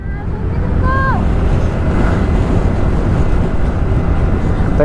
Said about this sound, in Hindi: आज ना चंडीगढ़ में बहुत तेज़ हवाएं चल रही हैं, बहुत तेज़ यार